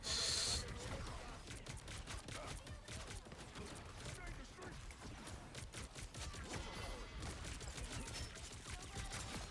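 Rapid gunfire in the hero shooter Marvel Rivals keeps up for several seconds as steady automatic shots under busy game effects, with no clear talking.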